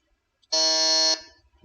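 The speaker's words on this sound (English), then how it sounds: "the fastest on the buzzer is Zaman." A single loud electronic quiz buzzer sounds at a business quiz final for just over half a second, a steady harsh tone that cuts off sharply, with quiet before and after.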